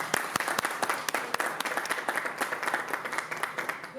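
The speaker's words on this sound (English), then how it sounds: "give a round of applause to our keynote speaker" Guests at an inaugural awards ceremony applaud a keynote speaker with steady, continuous clapping at a moderate, somewhat distant level, with sharper individual claps standing out through the crowd sound.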